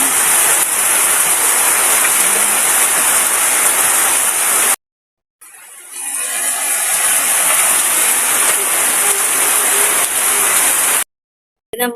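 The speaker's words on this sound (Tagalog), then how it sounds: "Malakas na po ang ulan." Heavy rain pounds a roof in a steady, loud roar during construction work, briefly cutting out twice before resuming at full force.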